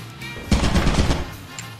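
Burst of video game gunfire, a short rapid volley of shots that starts abruptly and fades into a lingering tail, loud and close with no talking.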